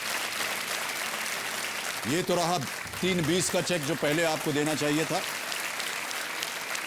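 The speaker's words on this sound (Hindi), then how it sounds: "और तालियां बजती रहनी चाहिए देवी और सती" Studio audience clapping on the KBC quiz show runs steadily in the background while someone speaks over it in the middle.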